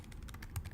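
Quick, fairly even keystrokes on a computer keyboard, close and quiet, with a few slightly louder taps near the end and no one talking.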